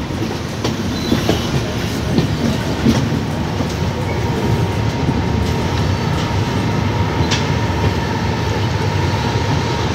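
Uttar Sampark Kranti Express running on tracks between New Delhi and Katra, a loud continuous rumble from inside the coach with rhythmic clickety-clack of wheels over rail joints.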